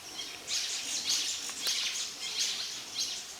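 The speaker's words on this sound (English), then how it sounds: "birds making noise in this area." Several birds chirp and call in bursts of high, bright twittering in Blue Mountains bushland beneath a large rock overhang, fairly steady and moderately close, with a soft outdoor hiss beneath.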